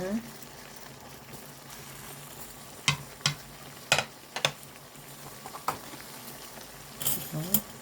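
Onion goes into a pan of braised hairtail with aged pumpkin and dried shrimp, giving a soft simmering bubble under a few sharp clicks and stirring taps at close range.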